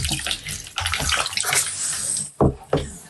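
Warm water runs steadily from a tap while a dog is bathed at home, a continuous close splashing rush with a brief break and a couple of sharper splashes near the end.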